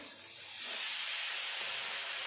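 Coconut milk poured into hot frying masala for a Bengali prawn malai curry, a steady loud sizzling hiss that swells and holds, with no talk.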